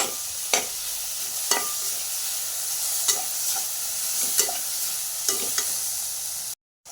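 Mint and coriander leaves sautéing for veg biryani, a constant sizzle punctuated by about seven sharp spoon scrapes and taps against the pot at uneven intervals, close, ending in a brief cut of silence.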